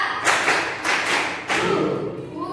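Sharp hand claps from a classroom clapping game, landing in short uneven groups of two or three, close and fairly loud with no voices over them.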